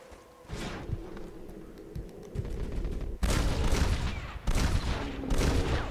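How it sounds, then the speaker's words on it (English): Semi-automatic gunfire aimed at a bear in the Red Dead Redemption video game, a rapid string of loud, close shots with a dense burst in the second half, no talking. "just go with semi-auto. So I can get 5 shots in its head quickly"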